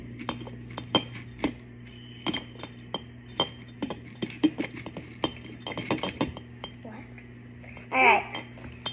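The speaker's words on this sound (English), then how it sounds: "Alright, so I'm going to mix it up." A spoon stirs vinegar and food coloring in a glass for a homemade volcano, making quick clinking taps against the glass in an uneven rhythm, with brief talking in the background.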